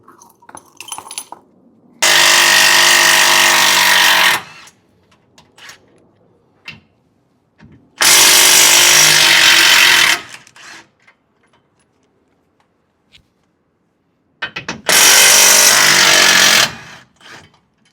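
An impact power tool removes tow hitch bolts from a vehicle's rear bumper, firing three loud, close buzzing bursts of about two seconds each, separated by quiet pauses with small clinks and handling sounds.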